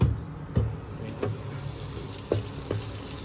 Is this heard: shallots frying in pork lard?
yes